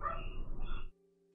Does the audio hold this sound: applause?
no